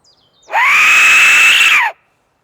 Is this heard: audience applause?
no